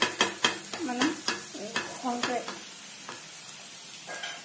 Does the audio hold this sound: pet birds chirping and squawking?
no